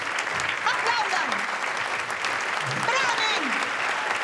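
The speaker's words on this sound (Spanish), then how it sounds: "¡Aplaudan hasta el calambre!" Theatre audience applauding at a staged performance, a steady dense wash of clapping throughout with voices mixed in, fairly near and sustained.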